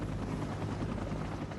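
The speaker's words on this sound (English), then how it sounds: "Additional rescuers were carefully brought in by helicopter, 3 at a time." Rescue helicopter in flight during an avalanche rescue, a steady loud rotor drone with dense low thumping and broadband roar, continuous and close throughout with no speech.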